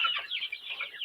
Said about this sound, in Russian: Вот все 4 петуха.